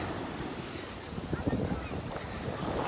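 Ocean waves washing ashore at an Alabama beach, a continuous loud rushing surf mixed with wind buffeting the microphone, with no speech.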